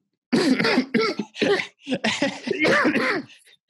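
A close, loud coughing fit: several harsh rasping coughs in quick bursts with brief gaps, strained and throaty, ending in a faint wheeze.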